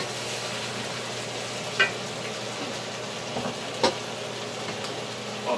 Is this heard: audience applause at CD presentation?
no